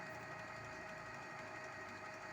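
A Canon G2010 inkjet printer running an ink flush cycle: a faint, steady mechanical whir with a constant motor tone and slight rhythmic ticking, heard alone with no talk.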